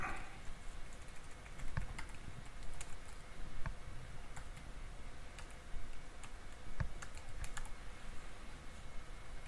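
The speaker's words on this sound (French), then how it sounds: "on clique sur New, voilà, on tape la machine" Sparse key clicks on a computer keyboard while a VirtualBox machine name is entered, a few scattered taps over a constant background hum, fairly quiet and without talk.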